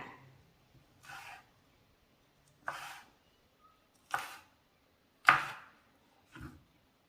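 Knife chopping agathi flowers for a thoran on a cutting board, five sharp separate cuts spaced about a second apart, close and clear in a quiet room with no talk.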